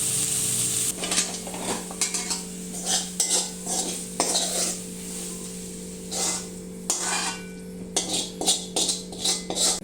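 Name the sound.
stirring prawn roast in a pan to dry the liquid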